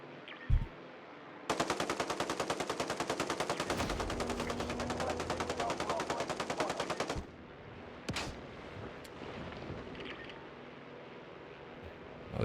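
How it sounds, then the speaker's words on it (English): Sustained automatic gunfire from another player in Call of Duty Warzone, a loud continuous rattle of shots lasting several seconds, followed by a sharp isolated bang and quieter background game noise, with no talking. "I think this other player is trying to shoot me down."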